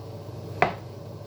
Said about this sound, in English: these are already cooked, so I'm just going to give these a very rough chop